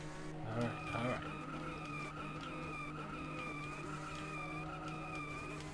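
Tires skid under braking in the arcade racing game Rad Mobile, a steady electronic engine drone running throughout with a brief louder squeal near the start.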